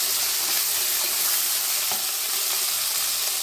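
Tomato and seedless tamarind sautéing in a pan for a pumpkin sambar, a loud, continuous close hiss and sizzle with faint stirring taps, no voices.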